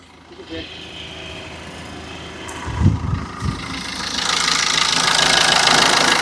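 A used car's engine idles and revs, growing louder and rougher toward the end, with a couple of low thumps and faint voices in between.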